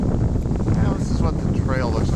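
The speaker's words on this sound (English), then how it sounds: "It's kind of windy too" Heavy wind buffets the microphone in a constant low roar on a forest preserve trail, loud and close, with faint traces of a voice under the rumble.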